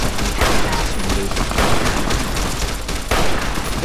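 Dense, loud gunfire rattles without pause in Fallout New Vegas as Legion assassins attack, a continuous barrage of overlapping shots at close range.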